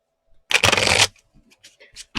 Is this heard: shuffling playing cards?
yes